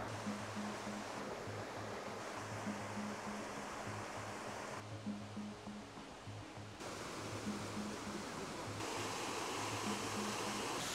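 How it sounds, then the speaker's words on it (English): Steady broadband rush of a waterfall in Tanzania, constant and fairly close, with a low pulsing hum running underneath throughout. "I hear the waterfalls."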